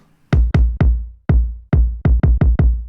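Boomy, muffled kick drum hits, low-pass filtered on an MPC One so the highs are gone, about nine thumps in an uneven beat pattern, loud and dry.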